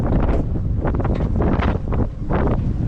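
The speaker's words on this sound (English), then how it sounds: "That wind is just ripping through." Strong wind roars across an open boat on the water in fresh, rough weather, a loud continuous buffeting rush with gusty swells.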